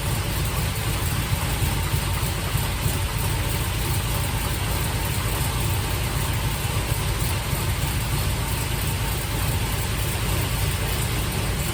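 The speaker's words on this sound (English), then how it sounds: "Engine really doesn't sound bad." A 1955 Buick Special's engine idles steadily with no cooling system fitted, a loud, continuous low rumble with a faint ticking texture running unbroken throughout, with no voices over it.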